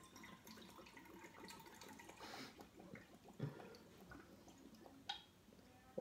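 Balsamic vinegar poured into a small bowl, a faint, quiet liquid trickle with soft splashes and small handling clicks, close and without speech.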